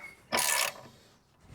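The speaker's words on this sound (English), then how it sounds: "I'm just using my foot to stabilise the spanner at the other end to stop it spinning round" A spanner turns a bush removal tool on a Land Rover Discovery 3 rear hub knuckle, giving one short, loud mechanical ratcheting burst that stops abruptly, followed by quiet.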